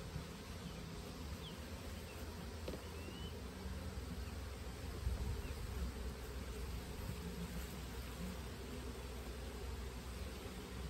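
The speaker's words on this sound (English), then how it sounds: "I know these bees are pretty calm" Honey bees buzz around an opened hive during a hive check, with a faint, steady insect drone and occasional individual bees passing near, over a quiet outdoor background.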